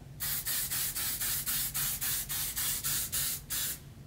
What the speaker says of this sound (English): I'm just gonna spray my face.